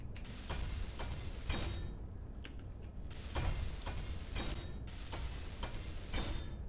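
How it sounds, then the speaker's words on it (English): Repeated welding bursts on blocks in Space Engineers, a rhythmic series of hissing, crackling mechanical pulses with brief gaps, steady and close with no talking. "Let's just weld up a couple of these."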